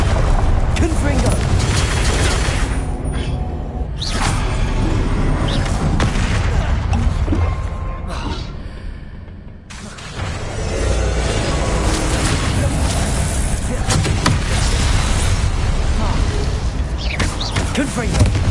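Confringo fire spells burst in Hogwarts Legacy as loud, dense, repeated booming blasts that barely let up, with a short lull partway through; a voice talks over the din.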